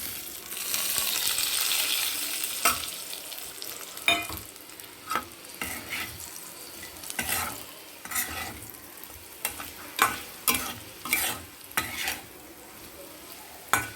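Potato pieces fry and get stirred in a pan with turmeric: a steady sizzle under repeated sharp scrapes and clinks of a spoon against the pan, close and fairly loud.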